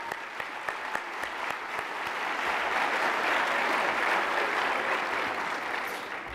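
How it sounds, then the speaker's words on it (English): An award-night audience applauds steadily, a dense wash of clapping that swells in the middle and stays loud throughout, with no talk over it. "So one more round of applause for them."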